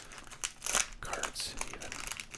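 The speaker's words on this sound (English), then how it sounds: "this wrapper is like sticking to the" The wrapper of an old sports card pack crinkles up close in short crackly bursts and rustles, some sharper crunches standing out, with soft whispering heard underneath.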